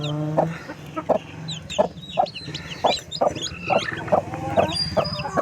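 A brooding native hen clucks close by in a run of short, evenly spaced low clucks, with faint high chick peeps scattered between them and no talking.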